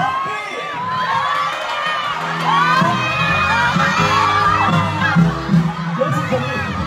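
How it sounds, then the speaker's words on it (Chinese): A live brand event audience whoops, cheers and shouts as the guest host Chen Bi is welcomed onstage, a loud, steady crowd roar building in the middle with scattered high yells throughout. "掌声欢迎我们欢迎幸福家品牌的主人陈碧。"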